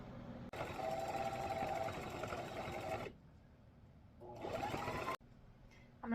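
A sewing machine stitching stretchy fabric for a baby hat, a close, steady whirring run for a few seconds, then a shorter second burst, with quiet pauses between.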